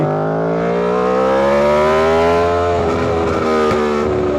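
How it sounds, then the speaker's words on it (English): Aprilia RSV4 sport motorcycle engine running close and loud, a strong harmonic growl that climbs smoothly in pitch as it revs, then breaks into a rougher crackle near the end, with no talk. "we're on the RSV4, and she's alive as ever."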